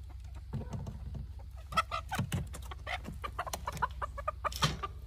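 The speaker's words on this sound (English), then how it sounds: "pulling the chickens out" Several hens cluck and squawk nearby in irregular bursts over a low steady hum, growing busier and more agitated as they are pulled from a cage.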